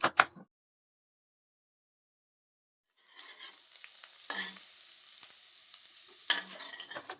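Chopped garlic sizzling in hot oil, stirred with a utensil; after a brief scrape and a pause, a steady crackling fry rises with occasional louder scraping strokes across the pan.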